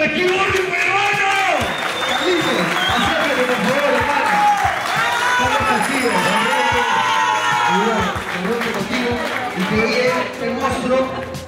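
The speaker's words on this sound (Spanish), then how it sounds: "¡Un aplauso para Kim Urri, mi hermano!" A crowd at a Lima skateboard brand launch claps, whoops and cheers for a skater, loud and sustained, with shouting voices rising over the applause throughout.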